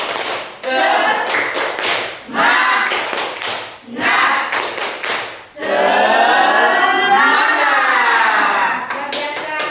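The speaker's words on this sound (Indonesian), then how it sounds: "Tepuk semangat." A school class claps together in rhythm, loud bursts of quick patterned handclaps separated by short pauses, then a longer sustained run of clapping near the end.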